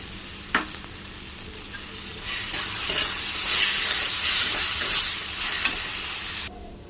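Spice paste for a pointed gourd and prawn curry frying in oil, a broad sizzle that swells as it is stirred, with a few utensil taps and scrapes, ending abruptly.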